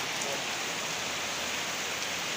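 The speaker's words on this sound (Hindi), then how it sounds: "तो बारिश आ चुकी भयंकर" Heavy rain pours down steadily outdoors near a dargah, a dense, unbroken hiss of drops on surfaces with no voices over it.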